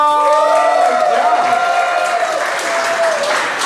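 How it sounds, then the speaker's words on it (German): A live late-night show audience breaks into loud, continuous applause and cheering, a dense wash of clapping with a sustained musical or vocal tone ringing over it near the start. "Und jetzt Applaus."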